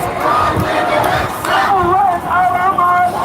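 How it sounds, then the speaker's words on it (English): A large crowd of people surges through a Denver street during a Free Palestine march, a dense continuous roar of voices and shouting that fills the space, loud and close. "There's a really large crowd of people coming through."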